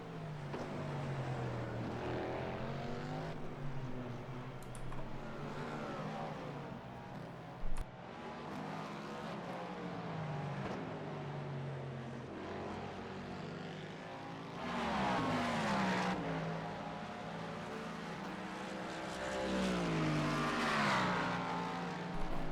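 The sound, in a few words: GT3 race car engines in a racing video game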